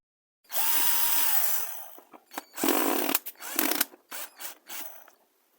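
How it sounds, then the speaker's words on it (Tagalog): Screws being loosened on a solar charge controller with a power driver, a sustained whirring burst followed by a series of short, sharp ratcheting spurts and clicks, close and loud. "naluwagan ko na yung kanyang mga screw"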